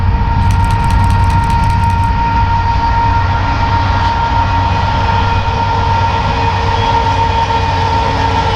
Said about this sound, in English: we catch our next train, ethanol loads heading west out of the Sunrise